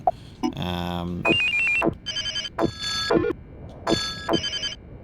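A synthesized phone ringtone in the video game Silent Hill: Shattered Memories plays a repeating bright melodic pattern in short bursts, loud and close, with no talking over it.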